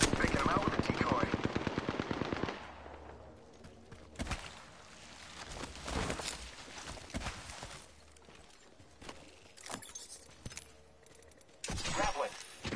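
Bursts of automatic gunfire ring out in a battle royale video game, a fast rattling volley first, then scattered single shots and short bursts at varying distances.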